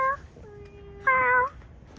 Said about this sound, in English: Is there a cat out here?